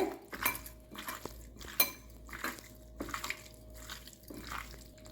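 Prawns being mixed with salt and squeezed lemon juice in a bowl, giving soft irregular clinks and wet squelches of a spoon against the bowl, close and quiet with no talking.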